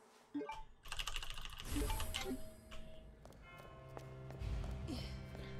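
Rapid typing on a new computer keyboard during a Resident Evil 2 speedrun, a dense run of clicking keystrokes close by over faint game sounds.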